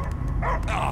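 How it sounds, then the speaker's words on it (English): A dog in the Guardians of the Galaxy video game gives a couple of short barks amid a low background rumble, with no talking. "I hear only barking"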